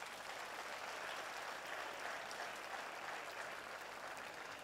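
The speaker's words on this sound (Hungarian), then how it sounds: "egy nagy tapsot ők is megérdemelnek" Steady, dense applause from the audience at a folk dance gala marking a dance ensemble's 35th anniversary, heard from a distance, fairly faint and even throughout, with no voices.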